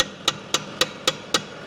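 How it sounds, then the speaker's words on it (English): A hammer taps a pin into a tractor's front loader mount with five evenly spaced sharp metallic strikes over under two seconds, over a steady low background hum. "Sometimes you gotta give it a little hammer encouragement."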